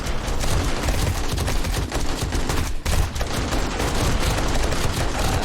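An automated turret in 7 Days to Die fires steadily at vultures during a horde night, a dense, continuous rattle of shots with a brief pause midway.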